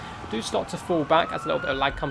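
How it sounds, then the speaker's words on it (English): Police car sirens wail faintly in the background with a steady rising tone, while someone talks over them throughout. "sorry for the sirens in the background there"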